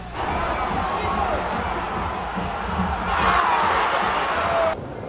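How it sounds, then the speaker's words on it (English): Large football stadium crowd roaring steadily during a penalty kick in extra time, a dense wash of distant voices that swells louder toward the end before dropping abruptly. "The crowd was going crazy, and it all came down to a penalty kick in extra time."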